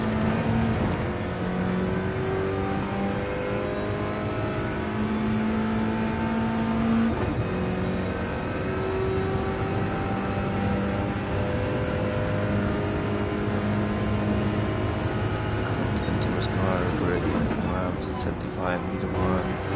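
GT2-class race car engine held at full throttle around Monza in a racing game, a loud sustained high-revving drone with shifting engine tones, under steady commentary talk throughout.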